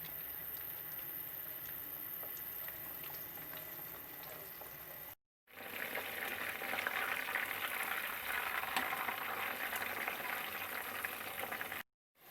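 Chicken chapli patties frying in oil in a pan, a steady close sizzle and bubble that runs unbroken, briefly cuts out, then returns louder and denser.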